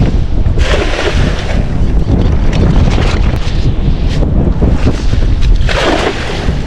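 Strong wind roars and buffets the microphone continuously at an old fishpond, with gusts swelling and easing over the sound of open water nearby.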